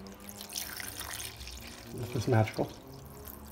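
Water runs from a tap into a container during a filter-cleaning test on a Dyson SV03 V6 Slim vacuum, a faint trickle building into a louder gurgling pour near the end, with a person speaking briefly.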